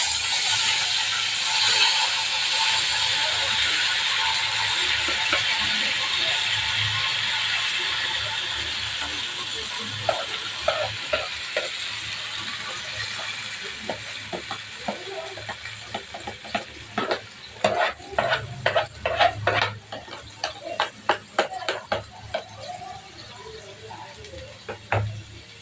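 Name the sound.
tomatoes sautéing and being stirred in hot oil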